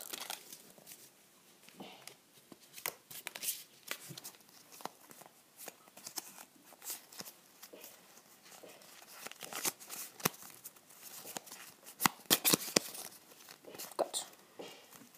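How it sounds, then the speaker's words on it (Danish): Playing cards shuffled repeatedly with eyes closed, a rapid papery riffling and flicking in quick bursts, close and fairly soft, with faint voices now and then. "Jeg vil nu med lukkede øjne blande de her kort."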